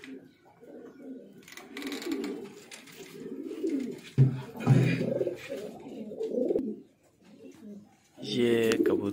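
Flying pigeons in Peshawar, Pakistan coo repeatedly at close range, soft throaty rolling calls in several bursts, with a brief sharper sound near the end.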